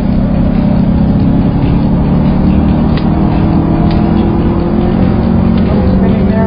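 A Cadillac CTS-V engine roars loud and close at wide open throttle as it downshifts, a dense, unbroken drone mixed with rushing wind noise that stays steady throughout.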